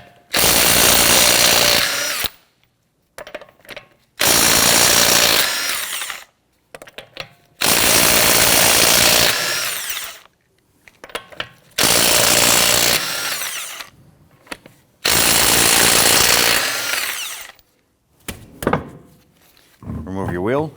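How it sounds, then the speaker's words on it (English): Power tool with a 21mm socket loosening and removing lug nuts from a 2017-2020 Hyundai Elantra wheel, a loud close whirring rattle in six separate bursts of a couple of seconds each, broken by short silences. "Using a 21mm socket, loosen and remove your lug nuts."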